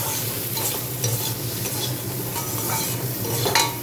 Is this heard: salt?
yes